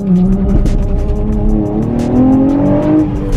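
A Nissan 350Z on an icy canyon road revs hard, its engine note climbing in pitch as it accelerates, loud and close, with a squealing edge from the tires.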